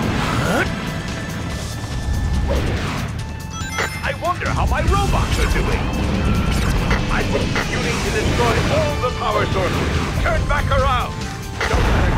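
Shadow the Hedgehog on GameCube, Sky Troops stage: a big stone pillar being smashed, a dense run of booming crashes and rumbling debris over continuous game music and effects, with character voices talking throughout.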